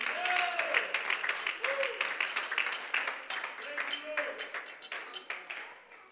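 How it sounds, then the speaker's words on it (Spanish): Church congregation applauding during a Christian sermon, a steady wash of many hands clapping throughout, with a voice carrying over it. "Si ese aplauso es para el Señor, suelte sus manos y bríndeselo con júbilo"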